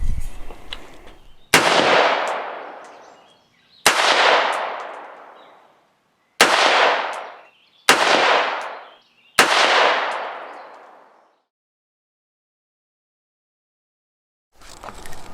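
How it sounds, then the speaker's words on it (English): Brownell BRN-180 rifle with a 10.5 inch barrel firing five sharp, loud gunshots at uneven intervals, each cracking and then ringing out in a decaying echo, with silence after the last and a faint noise at the very end. "the inaugural shots out of the BRN-180s here on Tactical Review"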